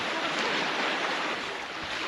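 Ocean waves wash steadily near a boat being loaded at sea, a broad even surf hiss with light wind noise, fairly soft and continuous, no voices.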